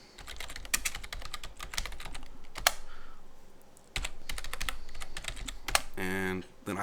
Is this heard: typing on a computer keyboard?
yes